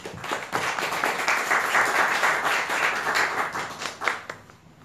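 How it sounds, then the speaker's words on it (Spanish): Audience at an international academic colloquium applauding a speaker, a dense burst of many hands clapping that swells and then fades out over several seconds. "Les pido, le brindemos un aplauso."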